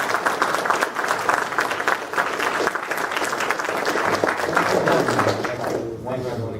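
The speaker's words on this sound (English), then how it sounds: "Please, one round of applause for our" Loud audience applause fills the room at the close of a talk on the Syrian revolution, dense clapping that continues throughout and fades slightly at the end, with a voice speaking over it.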